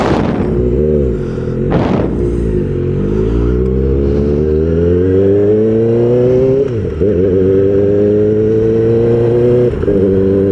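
A Kawasaki ZX-4RR motorcycle exhaust revs up and down several times close by, strong engine tones climbing and falling with a throttle blip near the start and a dip midway, loud throughout with no talking.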